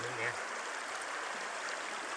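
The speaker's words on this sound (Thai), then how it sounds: "น้ำไหลงามครับ" Stream water running steadily in the Swedish countryside, a continuous close wash of flowing water with a voice heard briefly at the start.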